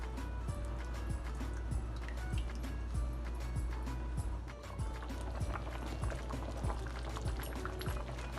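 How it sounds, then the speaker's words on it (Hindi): Rampuri pulao bubbles and boils in a pot with a steady, busy popping texture throughout, close and fairly quiet, with no talking. "इसमें बबल बनने लगे देखिए।"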